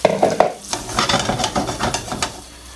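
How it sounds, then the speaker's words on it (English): Cubed tofu with sesame oil, salt and pepper frying in a preheated wok, with a close, steady sizzle and scraping stir strokes spaced every few tenths of a second. "I'm preheating the pan and I've got my cubed tofu with a little bit of sesame oil and some salt and pepper there."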